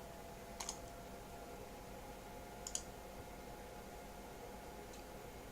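Two or three quiet, sharp computer mouse clicks while copying a file on a desktop, spaced a couple of seconds apart over a steady hiss of background noise.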